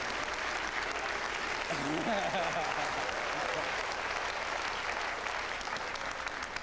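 A hypnosis show audience applauds a volunteer on stage, sustained clapping across the room while a voice speaks over it midway.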